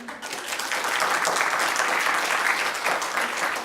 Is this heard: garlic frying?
no